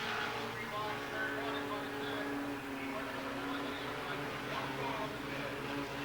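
Four-cylinder race cars at a speedway feature run as a continuous buzzing engine drone, moderate and somewhat distant, with a voice talking faintly over it.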